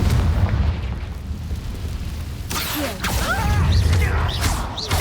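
A Confringo fire spell from Hogwarts Legacy bursts with a sudden booming blast partway through, over a steady low rumble of game ambience, followed by fizzing, whistling magical trails.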